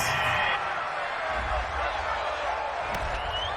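A home stadium crowd in the Madden 20 football video game roars approvingly after a penalty flag, a broad, sustained cheer heard under a commentator's voice.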